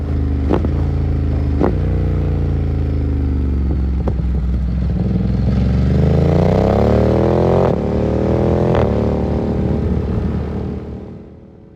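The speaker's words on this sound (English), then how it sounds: "a lot of the excitement this bike provided came from the Termi exhaust, which sounds absolutely stunning" A Ducati Monster motorcycle fitted with a Termignoni exhaust revs loudly and close up, with sharp throttle blips followed by a long, rising and falling rev. No voices are heard.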